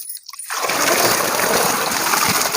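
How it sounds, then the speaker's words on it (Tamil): Rock fish being washed in water, starting with a brief quiet moment before a loud, close, continuous splashing and rushing of water. "மீன் நல்லா கழுவி எடுத்துக்கலாம்"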